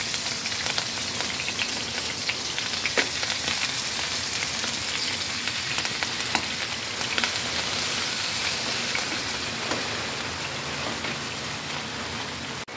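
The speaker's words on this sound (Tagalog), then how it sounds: "Ayan, kumukulo na siya." Steady bubbling and simmering hiss from a pot of chicken on the stove, constant and close, with faint scattered pops and no voices.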